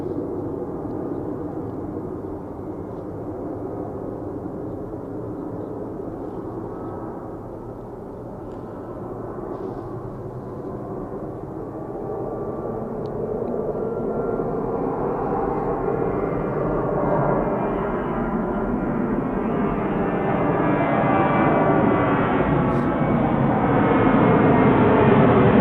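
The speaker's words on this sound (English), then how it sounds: "here's the Ryanair just about to depart" A Ryanair airliner prepares to depart Manchester Airport on an icy midweek day, its jet engines a steady, loud, broadband roar that builds slowly over nearly half a minute, heard alone without voices.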